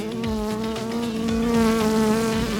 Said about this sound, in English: all the bees are trying to go back to where they think they were